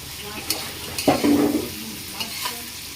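Chicken pieces with spices frying in a pan while being stirred, a steady close sizzle broken by a few scraping stirs and light utensil clinks.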